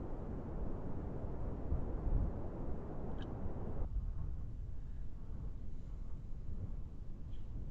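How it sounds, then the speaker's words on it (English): A rocket engine roars at full thrust, a steady broadband rumble with no pauses that cuts abruptly to a lighter hiss partway through, loud and close, with no voices. "Engine on full thrust."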